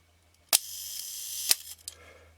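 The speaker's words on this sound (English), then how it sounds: "The shutter has to be released" Nikon F camera shutter released during reassembly, two sharp mechanical clicks about a second apart with a bright buzzing whir between them, then a few softer clicks, close and quiet.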